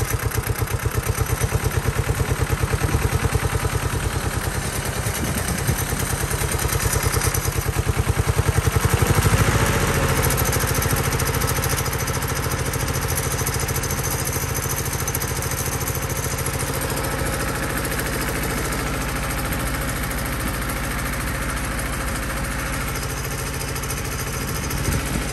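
An old Yanmar diesel engine, smoky and running on red fuel, chugs steadily and loudly close by, its rhythmic knocking idle holding throughout with a slight shift partway, and no talking.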